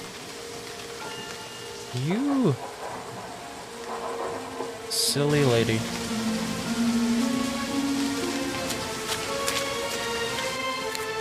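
Steady rain falls in Remothered: Tormented Fathers, a constant hiss of drops beneath brief speech and other in-game voices and sounds.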